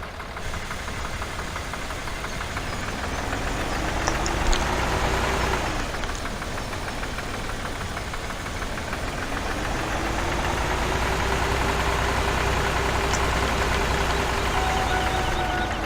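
A small Hatz H340 tractor engine in Farming Simulator 17 idles steadily with a rough, knocking chug throughout, continuous and close, with no voices.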